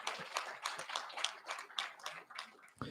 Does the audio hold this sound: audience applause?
yes